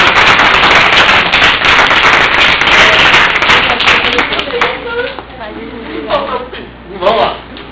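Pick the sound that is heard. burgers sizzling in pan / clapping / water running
clapping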